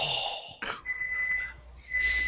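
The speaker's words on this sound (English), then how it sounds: "judging by the sound of the buzzer, that's our show tonight" A steady electronic buzzer tone sounds at the close of a podcast show, holding on alone at moderate loudness after a short burst of noise.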